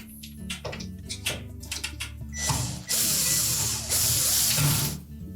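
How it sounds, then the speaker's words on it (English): A screw is driven in to secure a part inside a Whirlpool washer during a capacitor replacement, heard as close ratcheting clicks that build into a louder whirring burst of mechanical noise. "And then secure it with the screw."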